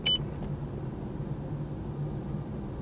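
A Bluetooth car kit in a 2006-2008 Mazda MX-5 Miata gives one short, clear beep as a call is hung up, followed by steady low cabin and road noise.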